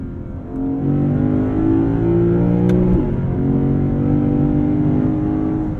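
A 2023 Lexus IS 500's naturally aspirated V8 pulls hard under acceleration, a loud, steady engine drone heard from the cabin with rising and shifting tones and a brief dip midway, with no one speaking.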